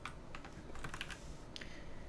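Quiet clicks of a computer keyboard as keys are pressed while working in Blender, a few light taps scattered close to the mic over low background hum.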